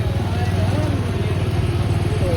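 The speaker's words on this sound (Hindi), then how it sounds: "नोमी बाइक चला रहा है।" A motorbike ridden along a village road in rural Pakistan gives a steady, close engine drone throughout, without pauses or talk over it.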